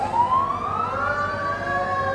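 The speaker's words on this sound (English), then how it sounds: "Everybody's letting those sirens go today." Fire department emergency vehicle sirens wail at a street parade, one loud rising tone sweeping upward and holding, fairly close and dominant with no speech over it.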